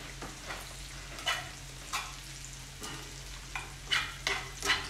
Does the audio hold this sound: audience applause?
no